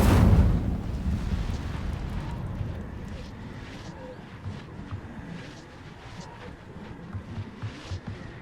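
A fire spell cast in Hogwarts Legacy gives a brief loud whooshing burst at the start, then settles into a rumbling, crackling roar of flames with scattered impacts that slowly fades.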